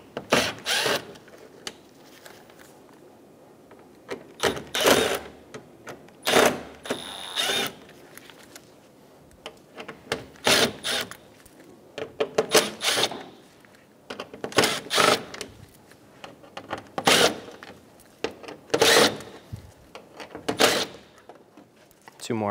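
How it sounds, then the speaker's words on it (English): Screws being backed out of the front of a 2012-2020 Chevrolet Sonic with a Phillips head bit, heard as repeated short bursts of driver whirring and clicking, each lasting about a second, with quiet gaps between them. "Using a Phillips head bit, remove all of the screws on the front."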